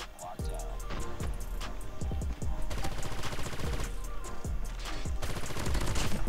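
Rapid bursts of M13 rifle fire in COD Mobile, loud and dense, with sharp repeated shots running nearly continuously over a steady game soundscape.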